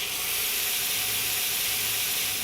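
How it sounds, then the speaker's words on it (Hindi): Mustard seeds and urad dal crackle in hot oil for a chutney tempering, giving a loud, dense, continuous sizzle and hiss close to the pan with no voices. "राई हमारे चटकने लग गई है, उड़द दाल भी अच्छे से पक गई है"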